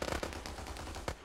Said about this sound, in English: it's just enemy infantry with MGs